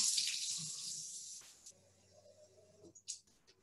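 Warm water runs from a kitchen tap as a steady broad rush for over a second, then stops, followed by faint handling clatter and small splashes or drips nearby.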